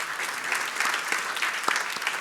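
Applause from an audience at a Deloitte presentation on SAP S/4HANA integration, a moderate, continuous patter of many hands clapping at middling volume with no voices over it.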